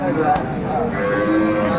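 A cow moos loudly and close by, a drawn-out low call with a couple of swells, while other farm sounds murmur faintly in the background.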